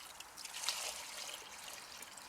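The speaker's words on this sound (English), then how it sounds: "3 gallons of water. I'm gonna pour it in." Three gallons of water poured into a bucket for a fan misting kit, a soft, faint continuous trickling stream with no talking.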